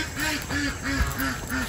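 Repeated duck quacks, about five evenly spaced nasal calls, fairly close and moderately loud with steady background noise.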